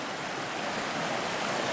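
A creek on a forest hiking trail rushes steadily in a broad, even hiss of flowing water, close and continuous with no voices.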